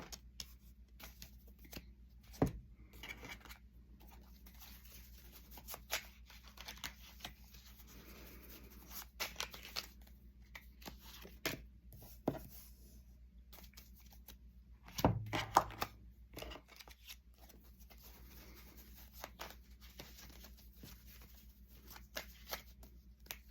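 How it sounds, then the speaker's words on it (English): Oracle cards are drawn and handled beside a tarot spread, quiet scattered rustles and soft taps with a brief burst of shuffling midway, close and faint against a low room hum. "So I'm just pulling some oracle cards here in correlation to these tarot cards."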